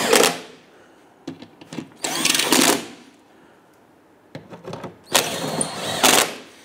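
Power tool driving the fasteners on a plastic skid shield under a Jeep Grand Cherokee 3.6L V6, in short whirring bursts with pauses between them, close and fairly loud.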